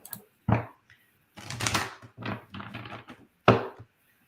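Oracle cards are shuffled in several quick bursts of soft papery riffling and tapping, close up, with brief silences between bursts.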